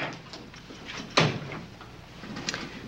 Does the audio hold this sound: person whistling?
no